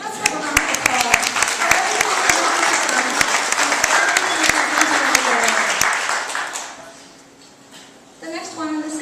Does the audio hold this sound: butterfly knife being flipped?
no